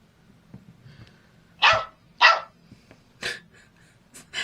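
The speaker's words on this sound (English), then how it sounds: "That's not this dog. That's my new ringtone." A dog-barking phone ringtone: short sharp bursts, two loud barks then a few fainter yips, over a low steady hum.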